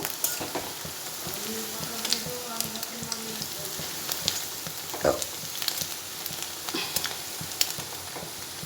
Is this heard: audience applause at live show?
no